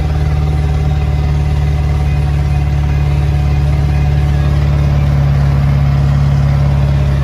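A vehicle engine labors steadily as it climbs a steep hill at a garbage dump, a loud, continuous low drone with no break and no voices.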